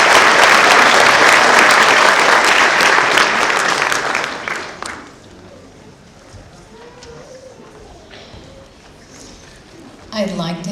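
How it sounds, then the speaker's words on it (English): A large audience at the MHCC nursing class of 2016 graduation claps loudly for about five seconds, then the applause fades to scattered claps and murmuring before a fresh burst near the end. "let's give them a big round of applause"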